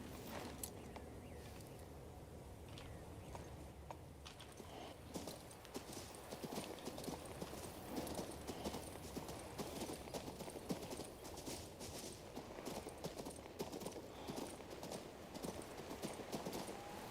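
Horse hooves clip-clopping in the video game King's Bounty II, a steady rhythmic run of hoofbeats at moderate distance, continuous across the whole stretch with no talk.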